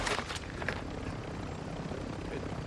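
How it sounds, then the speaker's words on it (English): A steady rotor and engine drone of a helicopter in Call of Duty DMZ fills the clip, with a few brief sharper sounds at the start. "Chopper behind us, chopper behind us, Jim, behind us."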